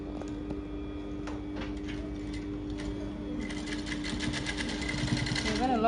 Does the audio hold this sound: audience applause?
no